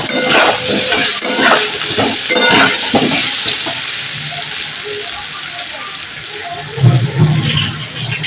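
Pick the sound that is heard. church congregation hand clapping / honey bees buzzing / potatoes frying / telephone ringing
potatoes frying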